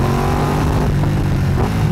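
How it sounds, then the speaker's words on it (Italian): Ducati Panigale V2 sportbike with a 955 cc 90-degree V-twin engine revving steadily on a wet test ride, a loud, continuous throaty drone with no pauses. "Ducati Panigale V2. Oggi prova un po' bagnata"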